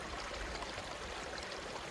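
Mountain creek in the Sierra Nevada flowing steadily, a constant broadband rush and babble of water close by with no talking over it.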